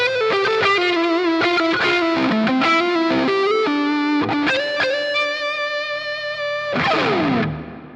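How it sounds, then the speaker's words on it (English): Electric guitar lead line with a washy, heavily reverberant tone from an FM3 reverb, sustained notes ringing out and a final chord fading into a long tail. "I'll switch over to a heavier reverb in the FM3 now"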